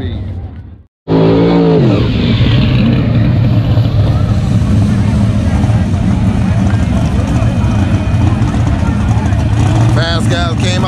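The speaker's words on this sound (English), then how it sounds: "That car left hard as hell." A drag race car launches hard off the line, its engine blasting into a loud, sustained roar after a brief silent gap. The noise stays near and powerful throughout, with a voice faintly underneath.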